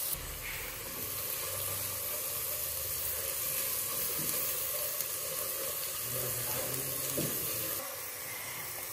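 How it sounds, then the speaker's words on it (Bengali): Food fries in a pan with salt and a tablespoon of salt added, giving a steady, close broadband sizzling hiss that runs almost unbroken for several seconds before it cuts lower near the end. "এবারে একটু ভাজা ভাজা করে নিচ্ছি।"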